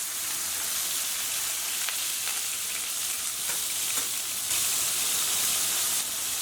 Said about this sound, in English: Now you want to hear that sizzle straight away